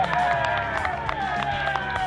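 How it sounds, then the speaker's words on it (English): Applause and cheering break out for a golfer's two-putt finish on the 18th green in front of a clubhouse at Carus Green, a steady patter of clapping from a small crowd with voices mixed in. "Brilliant scenes, the fist pump, loud applause"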